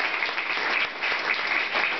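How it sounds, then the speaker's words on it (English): Sustained applause from a conference audience at the Global Voices Summit 2012, greeting the panel leader; dense, even clapping fills the whole stretch at steady loudness with no voices over it. "let's get a round of applause for this extraordinary individual who's going to be leading us"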